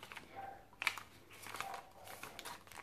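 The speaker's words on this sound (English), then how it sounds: "This is some blank music sheet paper." Blank music sheet paper crinkles and rustles as it is handled, with soft, intermittent crackles and a sharper crunch near the start, close and fairly quiet, with no talking.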